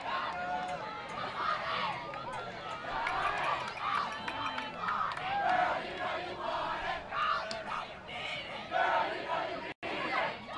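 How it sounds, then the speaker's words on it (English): A spirited crowd of First Baptist Academy fans at a TAPPS 3A state championship softball game yells and cheers steadily for about ten seconds, with lively chatter and shouts mixed throughout. "A lot of spirit going on by the crowd from First Baptist Academy"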